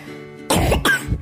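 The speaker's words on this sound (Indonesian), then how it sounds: "Batuk." Two sharp coughs in quick succession, close and fairly loud, followed by a softer throaty tail, with a faint hum underneath.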